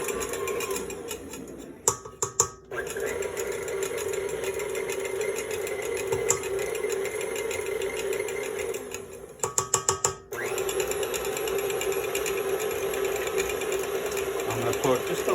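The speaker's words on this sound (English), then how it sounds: "we're just going to mix these up in the mixer" Electric mixer whirring steadily through deviled egg filling with mayonnaise and seasoning, a constant close hum broken by a couple of brief rattling bumps.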